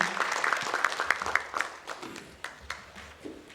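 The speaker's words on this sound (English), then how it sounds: "Can we have biggest round of applause for him?" Audience at a national security technology conference applauding a presenter, crisp clapping that is loudest at first and then tapers off into scattered claps.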